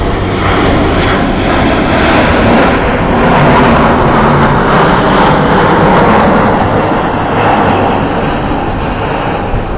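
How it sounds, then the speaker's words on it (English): An airplane passing overhead, its broad engine rumble swelling and easing slightly as it moves across, loud and continuous with no speech over it. "And I'm going to wait for this plane to go over."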